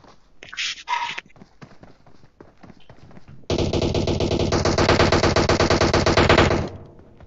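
Gunfire from the PUBG Mobile video game: a few separate shots at first, then a long sustained burst of rapid automatic fire that stays loud and close before cutting off.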